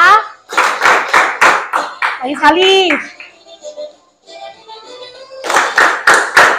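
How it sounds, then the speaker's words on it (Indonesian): A classroom of children claps in quick rhythmic bursts, then pauses while a child and an adult speak, and the clapping returns in another rhythmic run near the end. "Oke, tepuk tangan dulu ya"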